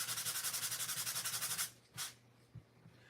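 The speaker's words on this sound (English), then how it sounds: "I'm gonna go over it with the sanding block a little bit." A sanding block rubbed back and forth over a polymer clay coaster in quick, even strokes, a soft close-up scratching that stops partway through, followed by a single brief scrape and a few faint knocks.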